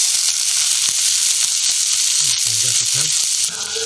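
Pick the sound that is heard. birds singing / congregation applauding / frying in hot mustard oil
frying in hot mustard oil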